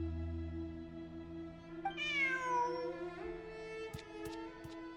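A cat in the video game Genshin Impact gives a clear, quiet meow that rises and bends in pitch, with a few soft ticks and game ambience behind it.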